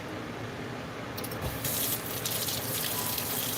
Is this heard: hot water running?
yes